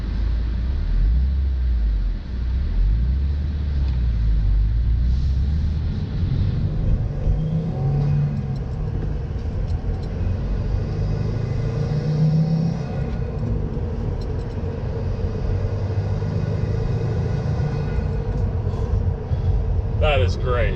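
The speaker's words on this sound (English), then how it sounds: "the turbo noise, it is so like distinct" Turbocharged engine of a 2019 Subaru WRX with a Cobb stage 1 tune, heard from inside while driving: a loud, steady low rumble with rising and falling whoosh, continuous throughout, with talking over it.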